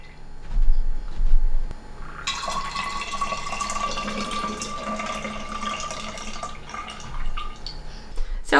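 Pumped breast milk is poured in a steady, continuous trickling stream that starts after a few seconds and runs for about five seconds before tapering off.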